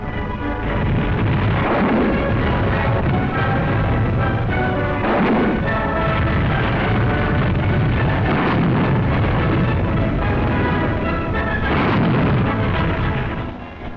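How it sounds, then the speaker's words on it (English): Wartime artillery barrage from 25-pounder guns joined by German self-propelled guns along the Senio River, a dense, loud rumbling roar of overlapping booms that never lets up. "German self-propelled guns augment the barrage of our own 25-pounder."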